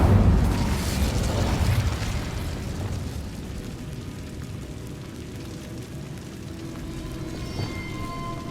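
A fire spell cast in the video game Hogwarts Legacy gives a loud burst with a rushing, booming blast at the start, then fades into a lower sustained roar and crackle.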